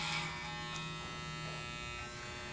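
An electric hair clipper runs close up while cutting hair with the clipper-over-comb technique, working up from the nape line as a steady, bright motor buzz that carries evenly through the whole clip.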